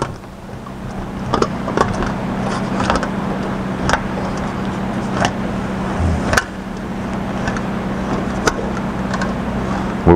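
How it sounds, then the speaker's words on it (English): An English wheel rolls over an aluminum Jaguar E-Type bonnet, giving a steady low metallic hum with scattered sharp clicks and knocks as the panel is worked back and forth in a workshop. "We're wheeling right on the edge, coming in just a little bit, smoothing out all that stretched metal there"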